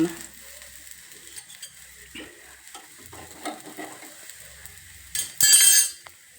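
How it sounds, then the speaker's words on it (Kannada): A thin dosa cooks on both sides on an oiled pan, giving a soft, steady sizzle with faint scraping clinks, then a brief louder hiss burst near the end. "ಈ ರೀತಿಯಾಗಿ ನಾವು ದೋಸೆಯನ್ನು ಮಾಡ್ಕೋಬೇಕು ತೆಳ್ಳಗೆ ನಾವು ಎರಡು ಬದಿಯಲ್ಲಿ ಬೇಯಿಸ್ಕೊತಾ ಇದ್ದೀನಿ"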